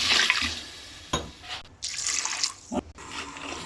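Water poured from a tumbler onto jaggery in a pan on a switched-off stove while making sweet paasi paruppu kozhukattai, a splashing, running pour with brief breaks, fairly close and clear.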